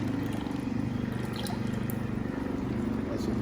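Water runs out of a hose after passing over a UV sterilizer, a steady close trickle and splash holding evenly throughout.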